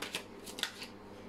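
Tarot cards being shuffled in a short quiet burst, a few soft papery riffles and slaps close by with no voices.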